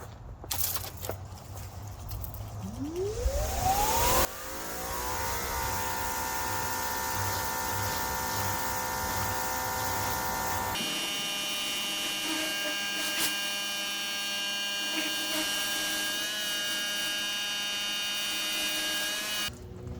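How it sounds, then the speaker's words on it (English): A Greenworks Pro 2300 PSI electric pressure washer with a turbo nozzle whines up to speed, then holds a steady electric hum, nearby and fairly quiet. "I'm gonna use the turbo nozzle first to get the dirt off"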